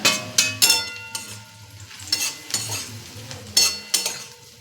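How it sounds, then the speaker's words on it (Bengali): Bread bhujia with onion frying in a pan, stirred with a utensil in several bursts of scraping and clatter, with a quieter sizzle between strokes. "ভালো করে নেড়ে চেড়ে নেব।"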